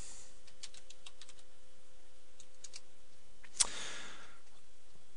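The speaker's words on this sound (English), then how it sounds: "we type enable and hit return" Fingers tap out a short command on a computer keyboard, a few light, close key clicks followed by one sharper press of the return key, with quiet room hiss around them.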